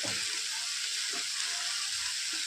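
Dried fish and eggplant sautéing in a pan with chili and asafoetida, a steady close sizzle with a few soft stirring scrapes, no voices.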